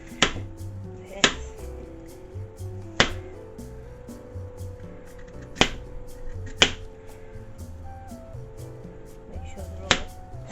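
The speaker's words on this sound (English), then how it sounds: "Make sure they're all sliced up." Knife slicing fruit on a board while preparing a dish with blackberries, several sharp chopping clicks spaced irregularly over a steady kitchen background.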